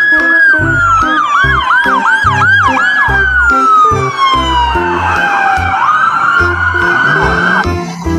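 A loud, close electronic siren from a toy police car wails with rapidly repeating yelps, then slides into a slower falling wail, with a rhythmic mechanical beat underneath.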